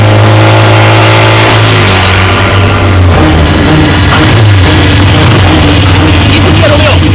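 Motor vehicle engine revs loudly and close up, pitch climbing then holding as it pulls away, filling the whole stretch with steady roar.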